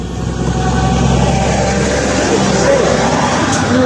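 Cars and other traffic driving past on a road beside a hitchhiker, a steady broad wash of engine and tyre noise that runs without a break throughout, with a person talking over it.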